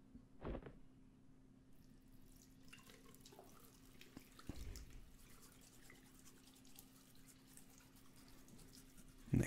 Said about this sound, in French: Il se brosse les dents.